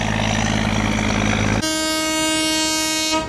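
A 2,000-ton twin-engine barge rumbles loudly, then a strong, steady horn blast cuts in and sounds for about a second and a half as the barge departs, close and piercing, with no talking.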